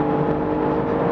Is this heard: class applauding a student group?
no